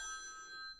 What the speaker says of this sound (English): my phone is designed to wake me up, which is why it sounds like this